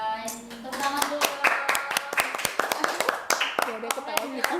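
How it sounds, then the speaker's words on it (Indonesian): A few people clap by hand in a casual indoor chat, with sharp, distinct claps in a loose rhythm while voices talk and laugh over them. "Tepuk tangan dulu."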